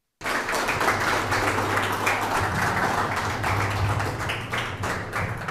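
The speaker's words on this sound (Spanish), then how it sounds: "un fuerte aplauso para cada uno de ustedes." A crowd applauds at the inauguration of a Copedel cooperative branch in Cobán, a dense, steady burst of clapping that starts abruptly and holds loud for several seconds, with a low hum beneath.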